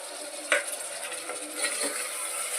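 Tomato and potato frying in a pan while being stirred, a steady close sizzle with a sharp clink of the utensil early on and soft scraping throughout.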